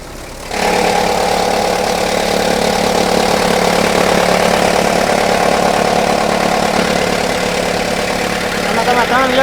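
A tractor engine runs steadily throughout while driving a Lions chaff cutter, a continuous loud mechanical drone with a constant hum that starts abruptly in the first second and holds an even level.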